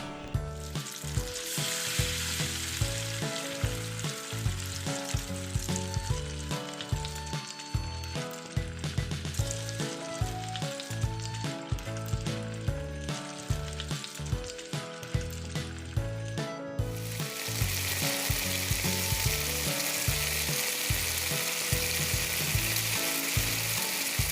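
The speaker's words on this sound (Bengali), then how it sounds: "একটা প্যানে আমি সয়াবিন তেল গরম করে একটা একটা করে চিকেন পিস আমি ভেজে নিব" Broiler chicken pieces frying one at a time in hot soybean oil in a pan, a loud steady sizzle with rhythmic thumps and clinks over music, the crackle rising sharply toward the end.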